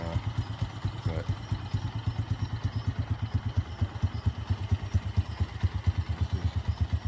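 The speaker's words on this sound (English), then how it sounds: "I got her idling real low right now" A BD125 X22 125cc motorcycle idling very low at night, a steady rapid putter of evenly spaced engine pulses with light mechanical clatter, close and continuous with no talking.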